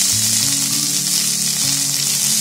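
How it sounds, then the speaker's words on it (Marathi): Chopped green tomatoes sautéing in a hot pan for chutney, a loud, continuous close-up sizzle with faint stirring, no voices. "दोन मिनिट मी परतून घेते."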